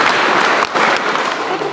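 A parish congregation gathered for a church drama claps in unison, a dense, loud wash of many hands with a brief dip partway through, close and continuous.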